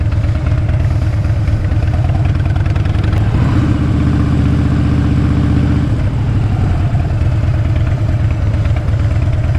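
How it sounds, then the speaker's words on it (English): A Harley-Davidson motorcycle engine runs steadily nearby with a throaty, even rumble, and a tonal first-gear whine rises over it partway through. "I always know first gear because it's got that Harley whine, that first gear whine"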